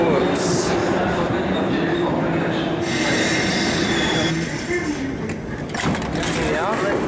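Paris RER C commuter train running, a steady loud rumble of wheels and carriage noise throughout with brief metallic squeals near the end.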